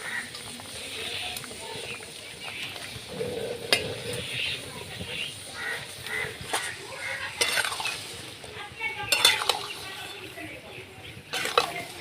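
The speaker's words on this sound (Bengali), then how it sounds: "এবার আমি ঝিঙেগুলো দিয়ে দিচ্ছি।" Ridge gourd pieces tossed into a pan with half-cooked potatoes, a continuous soft sizzle under repeated scraping and clinking of a spoon stirring, close by, with a few sharper knocks.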